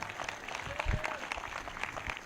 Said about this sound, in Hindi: वो ताली बजाकर धन्यवाद कर रहे हैं